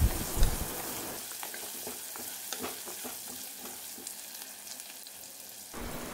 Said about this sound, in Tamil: ஸோ இப்போ உப்பும் மஞ்சள் பொடியும் கொஞ்சமாக போட்டு நல்லா வதக்கிக்கரலாம்.